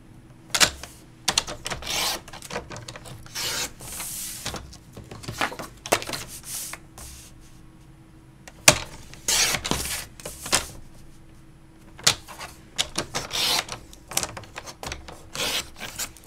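Christmas scrap paper is cut down to small square pieces, giving close, dry rubbing and slicing strokes in irregular bursts with short pauses between them and no talking.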